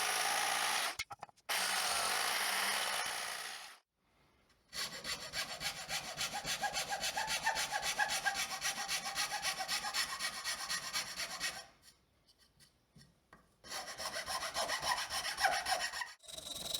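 A wood fiber plate is hand-sanded with 400 grit sandpaper, giving bursts of steady, dry scratchy rubbing close up, separated by short pauses.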